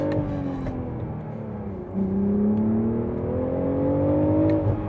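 A 2025 BMW Z4 M40i with a six-speed manual launches hard from first gear on dry roads, its engine note climbing to a loud, close rev and easing briefly before climbing again.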